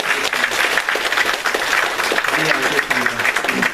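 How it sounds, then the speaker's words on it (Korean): A church congregation at a Sunday worship service claps in a steady, moderately loud round, with voices murmuring beneath it. "격려하는 마음으로 큰 박수."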